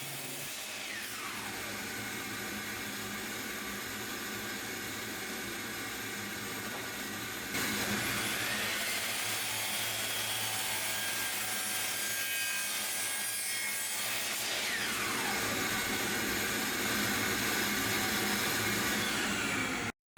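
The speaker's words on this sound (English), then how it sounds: "To cut the corners, I'm using my miter saw" A miter saw cuts wood corners in a workshop in two long passes, the blade's whine rising as it bites and then sustaining a steady rasping cut, loud and close with no talking.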